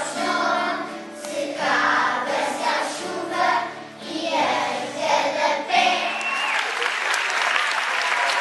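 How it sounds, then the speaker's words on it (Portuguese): Audience at a school event applauds visiting parents, steady mixed clapping throughout with children's voices and chatter layered over it, swelling and dipping in loudness. "uma salva de palmas para eles que vieram"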